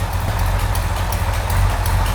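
A Katech LS7 V8 engine idles at about 1500 rpm, running hot with a coolant leak and a random misfire, producing a loud, steady low rumble with a continuous mechanical chatter.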